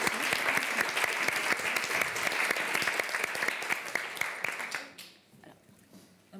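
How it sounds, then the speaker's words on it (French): Warm applause from the audience at a women-in-film roundtable during an Oscar Days event in Paris, many hands clapping briskly, then fading out abruptly to a quiet room. "Moi, je propose qu'on applaudisse chacune."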